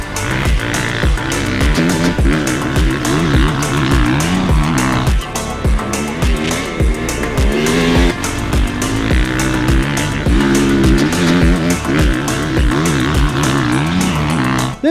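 A 450cc motocross bike rides a track with loud, raw engine revving that climbs and drops repeatedly as it shifts through gears, close and continuous.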